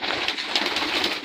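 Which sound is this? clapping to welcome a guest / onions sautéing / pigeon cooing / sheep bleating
pigeon cooing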